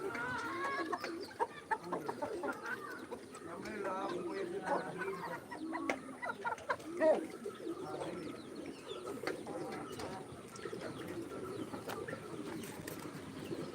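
Backyard chickens cluck steadily while pecking at cooked rice, a busy stream of soft clucks and short calls nearby, mixed with pigeon coos and occasional scratching sounds.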